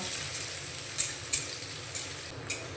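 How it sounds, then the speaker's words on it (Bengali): Chopped onion fries in oil after cumin in a pan, giving a constant close sizzle with occasional stirring scrapes and clinks. "দিয়ে দিচ্ছি কুচনো পেঁয়াজ পেঁয়াজটাকে আমি হালকা করে ভেজে নেব"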